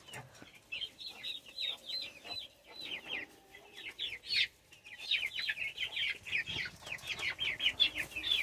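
Chicks cluck and peep repeatedly in quick bursts, close by, with soft rustling in the background and no talking.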